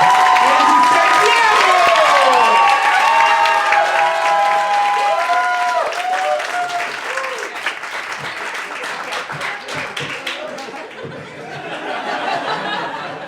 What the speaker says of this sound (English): Start clapping. Put your hands together.